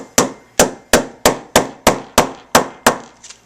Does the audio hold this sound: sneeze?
no